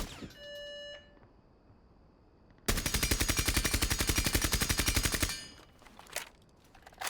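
A suppressed weapon fires one continuous rapid burst of about two and a half seconds in Rainbow Six Siege, the shots evenly spaced and loud. Brief electronic beeps come before it and short scattered clicks follow.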